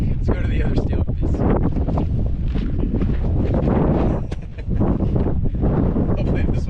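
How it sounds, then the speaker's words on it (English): Wind buffets a microphone outdoors at a shooting range, a loud continuous low rumble with gusting swells, and a voice talks under it. "we're having a problem with the wind"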